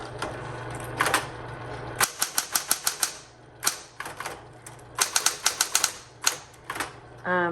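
A 1960s Coronet Electric 12 electric typewriter types in close, crisp bursts of rapid keystrokes with short pauses between them, ending with a rising mechanical whir.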